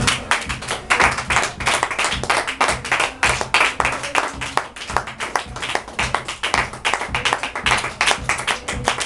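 A church congregation claps rhythmically to acclaim the Lord during a pastor's service, with sharp, steady, close handclaps repeating in a fast even beat for the whole stretch.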